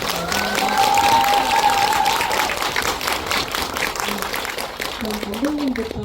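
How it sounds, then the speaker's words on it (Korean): Audience applause welcoming the director and actors onstage at a film festival screening talk in Seoul, a steady dense clapping wash mixed with crowd murmur and a voice speaking over it throughout. "큰 박수로 환영해 주시면"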